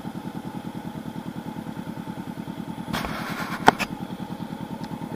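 A 2019 Honda CB500X motorcycle engine idles steadily on a road in Shanghai, its rapid even pulsing running throughout at close range, with a brief clatter of nearby noise near the end.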